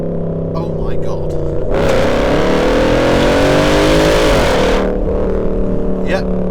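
A Land Rover Defender P525 with its V8 engine accelerates hard from inside the cabin, the loud roar climbing through the revs for a few seconds before easing back to a lower drone.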